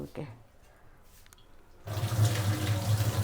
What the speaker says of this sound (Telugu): 3 గ్లాసులు మంచిగా కడుగుతాను, కడిగి పెట్టుకుంటా